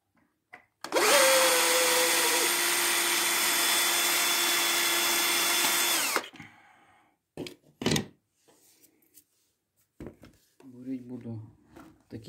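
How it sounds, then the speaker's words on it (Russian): A rotary hammer drills into a wall at an electrical outlet with a loud, steady grinding roar for about five seconds, followed by knocks, clatter and someone speaking. "Таким перфоратором."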